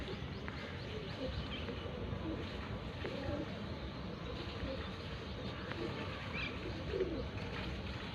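A golden female pigeon coos softly amid a dense, continuous bed of low bird murmuring and rustle from a loft of pigeons, steady and fairly faint, with no clear speech.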